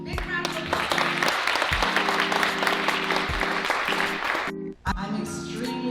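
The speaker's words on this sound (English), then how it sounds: "Big round of applause." An audience claps through a live local show segment while a music bed with a steady rhythmic pattern plays loudly alongside the clapping.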